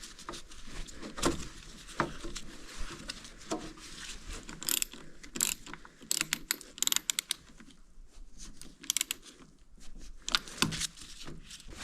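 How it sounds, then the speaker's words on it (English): A stubby ratchet clicks in quick, irregular bursts while turning a bolt on a Kubota D905 diesel engine, close and fairly quiet with short pauses between runs of clicks. "I got my stubby ratchet in here."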